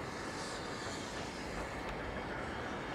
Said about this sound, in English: The train is actually coming from a different angle.